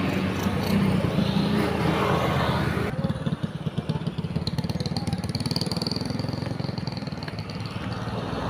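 Motorcycles pass one after another on a road by a bridge, their engines buzzing and rumbling near and loud, with a brief shift in traffic noise partway through.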